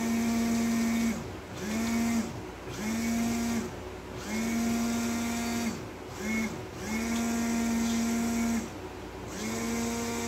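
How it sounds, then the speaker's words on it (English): An old immersion blender mixing goat's milk soap whirs in short repeated bursts, each with a steady high hum, stopping briefly between pulses, close and fairly loud. "this immersion blender is strictly used for soap making"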